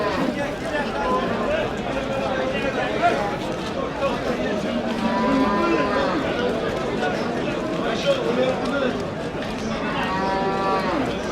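Cattle moo repeatedly amid a busy crowd, several long lowing calls rising over constant chatter and voices at a livestock market in Kattakurgan.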